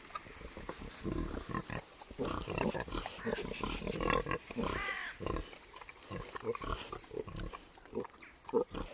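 Pasture pigs grunt and snuffle in short, irregular bursts nearby on a farm, with a person talking softly over them.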